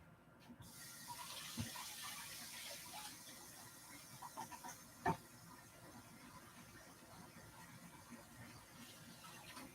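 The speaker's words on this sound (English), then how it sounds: "I want to rinse this off." Running faucet water pours over a dish being rinsed in a kitchen sink, a steady moderate gush with a few clinks and bumps, no speech.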